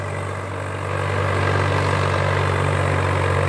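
A Swaraj 744 FE tractor engine pulling a 14-disc harrow in the field, a loud steady low diesel drone that swells slightly and then holds constant.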